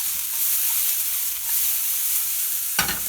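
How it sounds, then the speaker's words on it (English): Onions sautéing in olive oil in a pan over medium heat, a steady close sizzle throughout, with a brief clatter of stirring near the end. "Put some olive oil in there. And we're just going to saute our onions"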